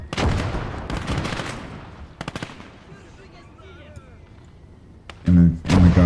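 Gunfire in the WWII game Call to Arms - Gates of Hell on the Ostfront: loud rattling bursts early on, sharp isolated shots in the middle, and heavy blasts near the end, with someone talking over the fighting.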